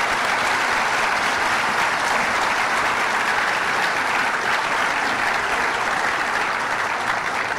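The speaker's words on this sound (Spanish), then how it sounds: "un gran aplauso para Chicontepec" Dense, loud applause from a large audience at the inauguration of a cryogenic plant in Poza Rica, steady and unbroken from start to finish with no voices on top.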